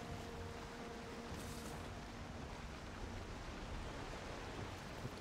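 Strong wind and rough water surge steadily around a sailing boat in the game Valheim, a dense, constant rushing wash with no voices.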